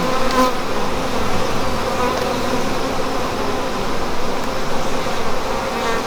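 Honey bees buzzing loudly and continuously around an open hive during an inspection, a dense close-up drone with no voices.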